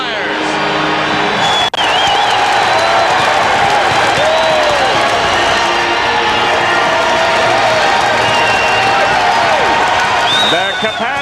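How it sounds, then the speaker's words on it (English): A capacity hockey arena crowd roars and cheers steadily after a Philadelphia Flyers power play goal by Lindros against Buffalo, with loud sustained crowd noise, whoops and scattered clapping throughout. "Capacity crowd certainly enjoying the power play by the Flyers."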